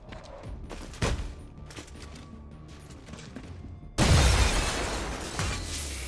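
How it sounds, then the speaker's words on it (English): A grenade going off in the video game XCOM Chimera Squad: a sudden loud burst at about four seconds that keeps roaring with debris and rumble, after quieter in-game combat noises and a sharp crack earlier. "And the grenade explodes"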